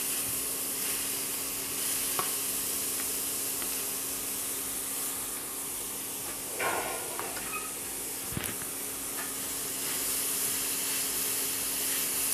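Grated carrot frying in ghee for a no-mawa Navratri fast sweet, giving a loud, steady broadband sizzle and hiss that holds for the whole stretch, with a few faint clicks of a utensil and no voices.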